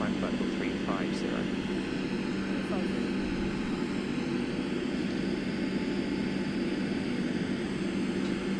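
Airliner cabin or cockpit drone during the climb after takeoff in Microsoft Flight Simulator, a steady, unbroken engine roar with a low hum beneath it and brief faint chirps near the start.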